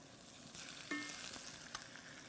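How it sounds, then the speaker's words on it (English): Loud, steady sizzling of blackened seafood frying in a small hot pan, a constant crackling hiss with a few sharper pops. "There's that sizzle I love"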